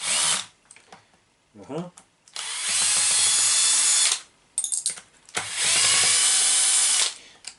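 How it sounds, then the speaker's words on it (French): A power drill removes the skid plate screws from a Traxxas E-Revo RC truck, with two sustained bursts of loud, close whirring separated by short gaps and a few brief clicks, plus a voice between the runs. "Tu enlèves les vis du skid plate."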